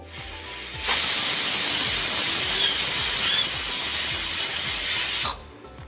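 A pressure cooker of chana dal with bottle gourd on a high gas flame lets out a loud, steady hiss of steam that starts abruptly, holds for about four seconds, then cuts off.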